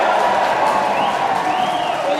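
Rugby league crowd at a Bradford Bulls versus Barrow Raiders match, a steady, loud roar of cheering and clapping filling the stadium throughout.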